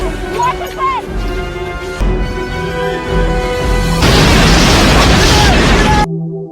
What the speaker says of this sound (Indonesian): aliran lava terus bergerak hingga memicu ledakan besar setelah membakar kendaraan pengangkut gas propana